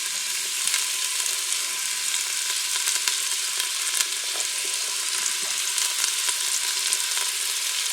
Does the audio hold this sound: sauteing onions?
yes